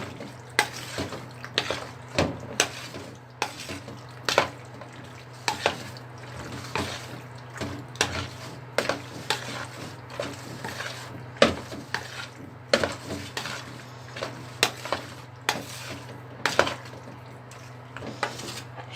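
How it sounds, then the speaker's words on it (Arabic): Macaroni being turned over with a breading mixture in a buttered tray, giving close, continuous scraping and clinking of a utensil against the dish with soft moist stirring, no voices. "هبدا اخد شويه من الخليط واقلب المكرونه بتاعتي كويس"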